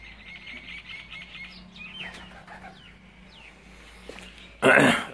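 Pigeons kept at a rural farmstead give faint chirps and calls, ending in a sudden loud burst of flapping wings close by, with someone talking throughout.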